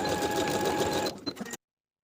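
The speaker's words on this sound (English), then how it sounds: "Overlap the short ends of the elastic slightly and sew in place to secure." A sewing machine stitches across overlapped elastic ends for a wrap top's casing, a close, steady mechanical whirr for about a second before slowing into a few brief stops and clicks.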